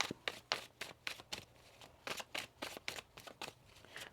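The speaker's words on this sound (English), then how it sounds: "One more shuffle." Rapid, crisp riffling of tarot cards being shuffled, a quick series of papery bursts with short pauses between them, close up.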